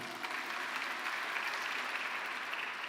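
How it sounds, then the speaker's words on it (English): Steady applause from an audience at a World AIDS Day 2020 live-streamed music event, a dense, even wash of clapping that holds at a moderate level for the whole span with no voices over it. "Give him a big round of applause."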